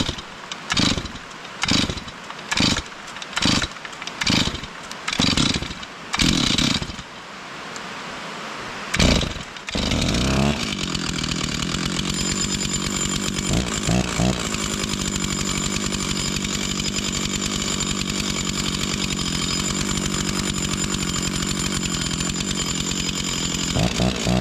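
Rebuilt chainsaw engine with the choke on: a run of short sputtering pops and failed catches, then the engine fires and holds a loud, steady, buzzing idle close by.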